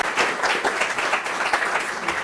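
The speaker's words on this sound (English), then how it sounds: "Please give them a round of applause." Audience applause at a distinguished lecture event, welcoming its sponsors, with moderately loud, uneven clapping in which individual claps stand out, steady for the whole stretch with no talk.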